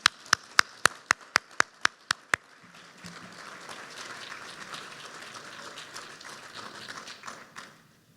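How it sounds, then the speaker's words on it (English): Audience at an arts and culture summit gives a short run of loud, evenly spaced claps that fade into softer scattered applause and room noise. "I almost got here where you were still applauding."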